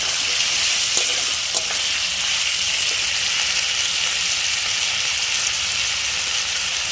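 Onions frying in a pan with panch phoron spices, giving a loud, close, continuous sizzle and hiss with occasional stirring scrapes and no talk.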